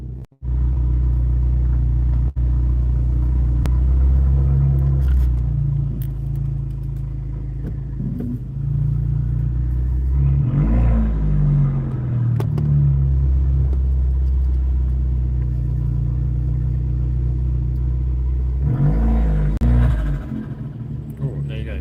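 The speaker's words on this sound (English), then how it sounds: "Might have heard that turbo flutter." A car engine revs and rumbles up close in an outdoor setting, with two distinct rev bursts and turbo flutter around them under a steady low drone, while someone talks over it.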